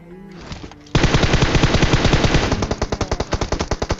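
Rapid MK14 rifle fire in a video game, a dense burst of close, loud shots that slows into distinct single shots toward the end.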